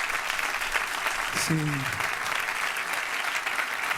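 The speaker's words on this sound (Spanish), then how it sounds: "Dele aplauso, aleluya." A church congregation breaks into sustained, loud applause, a dense steady clatter of many hands throughout, with a brief voice rising over it midway.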